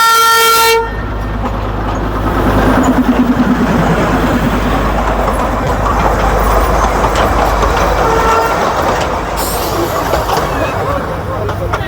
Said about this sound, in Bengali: সামনে থেকে তো টয় ট্রেন গেল